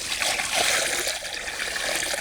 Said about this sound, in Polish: Dobra, wlać wody.